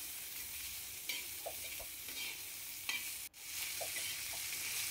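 Green chillies, garlic and coriander sauté with coarse salt in a pan, giving a steady close sizzle broken by a few light stirring scrapes and one brief sharp knock, with no talking.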